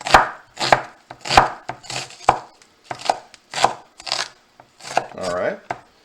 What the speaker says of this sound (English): And then we'll go ahead and dice up these onions.